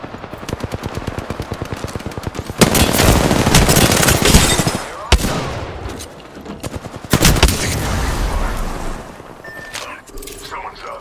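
Rapid automatic gunfire in Apex Legends, from a gold R99 submachine gun: loud, close bursts of fast shots in long strings with short pauses, mixed with more distant firing.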